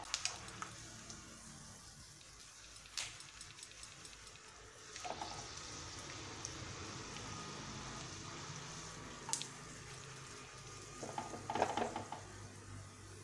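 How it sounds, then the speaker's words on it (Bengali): Peanuts frying in hot oil in a home kitchen, a steady soft sizzle running throughout with occasional louder crackles and stirring clicks, close and fairly quiet, with no talking. "এইবার করবো শুধু মুড়ির মধ্যে দেওয়ার জন্য কটা বাদাম আমি ভাজবো"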